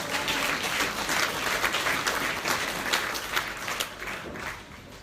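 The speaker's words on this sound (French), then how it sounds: "Applaudissez Jéhovah." A church congregation at a French-language sermon applauds in praise, with dense, sustained clapping. The sound stays full and fairly loud, then eases slightly toward the end, with no clear speech over it.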